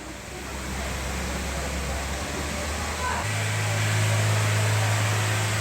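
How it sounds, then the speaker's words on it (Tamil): A 2013 Honda City's engine held at about 3000 RPM: a steady idle-like drone that steps up to a louder, sustained hum partway through, with broadband hiss layered over it. "வண்டி அப்படியே ஆக்சிலேட் பண்ணி 3000 RPM தள்ளி நிறுத்துங்க."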